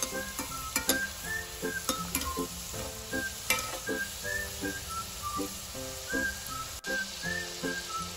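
Modak dumplings sizzling as they fry in hot oil, with steady crackle and spatter plus occasional stirring clinks of a utensil against the pan, close and continuous with no talking.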